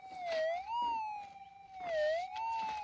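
A Minelab GPZ 8000 metal detector gives a steady, wavering tone over a quarter-ounce gold nugget buried 9 inches down in salty ground, the pitch dipping and swelling twice, faint and alone.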